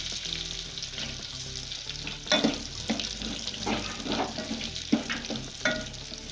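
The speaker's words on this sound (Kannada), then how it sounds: "ಎಲ್ಲ ಚೆನ್ನಾಗಿ ಫ್ರೈ ಆದಮೇಲೆ ಗೋಡಂಬಿ ಹಾಕ್ತಾಯಿದ್ದೀನಿ" Cashews fry in hot oil in a pan for kara pongal, a constant crackling sizzle broken by several louder stirring scrapes, close and with no talking.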